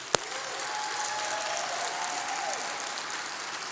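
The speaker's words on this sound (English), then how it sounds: "Let's clap for it, y'all." Sustained applause from a crowd, steady and fairly loud, opening with one sharp click and a faint tone drifting underneath.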